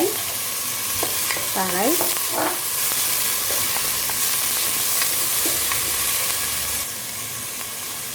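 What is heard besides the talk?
garlic cloves frying in a pan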